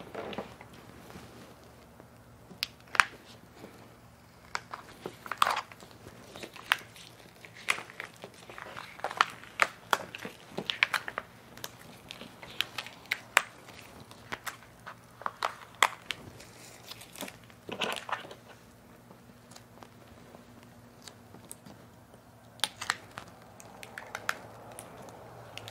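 Cut heat transfer vinyl being weeded by hand, with scattered soft crinkles, peeling rustles and small ticks in irregular bursts over a quiet background, close and fairly faint, no talking.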